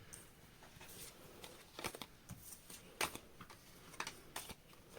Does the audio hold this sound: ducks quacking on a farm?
no